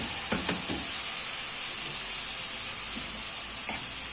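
Chopped tomatoes and grated carrot sizzle in a hot pan with a steady, loud frying hiss, broken by a few soft stirring clinks.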